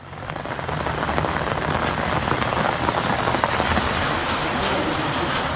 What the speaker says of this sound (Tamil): கொடைக்கானல் மற்றும் அதன் சுற்றுவட்டார பகுதிகளில் விட்டுவிட்டு 2 மணி நேரத்திற்கு மேலாக மிதமான மழை பெய்தது